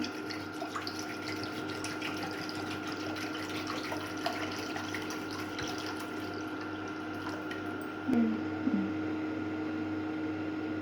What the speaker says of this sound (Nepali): अब हामी पानी हालेर उमाल्दैछौँ है